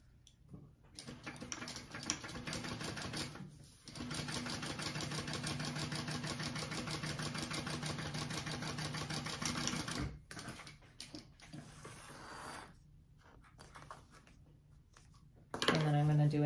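A sewing machine top stitching along a fold on a handmade bag runs in rapid mechanical bursts, with a long steady run followed by shorter stop-start stretches, quiet and close, with a person talking at times.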